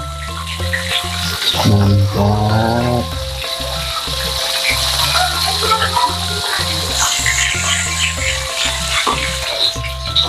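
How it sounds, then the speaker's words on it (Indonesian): Salted fish (ikan asin) sizzles in hot oil, a steady crackling fry running through the whole stretch, with a brief spoken word near the start. "Ikan asinnya kita goreng aja ya."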